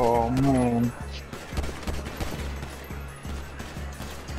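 Video game shootout gunfire, dense bursts of rapid shots rolling steadily after a brief opening voice, moderately loud and continuous through the clip.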